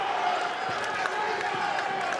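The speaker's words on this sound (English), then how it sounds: "this Camden High School crowd right behind us is getting loud" A high school basketball crowd at a Camden vs Rancho Christian game roars and cheers as a steady wash of many voices. It stays moderately loud in a large gym, with a few scattered whoops and claps rising out of it.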